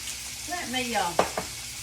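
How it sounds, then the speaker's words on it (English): Onions sautéed in bacon fat in a pan, a soft continuous sizzle with a few gliding tonal squeaks and two quick spoon scrapes as they are stirred, with no talk. "Just stir my onions around a little bit."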